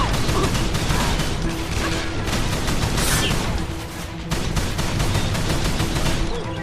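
Loud, dense gunfire from the Call of Juarez: The Cartel video game, a sustained run of rapid shots that barely lets up, with a brief dip partway through.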